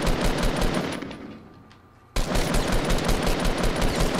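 Rapid automatic gunfire in Fortnite Battle Royale, loud continuous bursts that pause briefly in the middle and then resume just as intensely.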